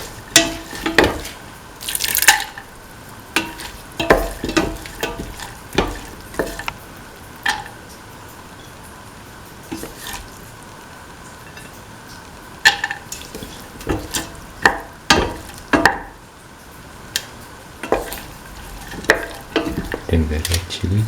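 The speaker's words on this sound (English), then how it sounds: "Mix the split chickpea into the mixture." Split chickpeas are stirred into a frying mixture in a pan. A spoon scrapes and clinks against the pan at irregular intervals over a soft continuous sizzle.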